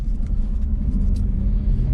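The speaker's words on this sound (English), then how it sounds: "you actually hear more of the engine and all the vibrating plastic and stuff, but good tire buzz" Steady low rumble and buzzing tire road noise from inside a moving Nissan Xterra cab with Nitto Ridge Grappler tires and 221,000 miles, continuous and fairly loud, with no talking.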